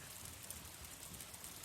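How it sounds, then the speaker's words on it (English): Outdoor rain recorded after a shower, a steady soft hiss of drops falling on surfaces, even and continuous at a fairly quiet level with no voices present. "Earlier today, it rained."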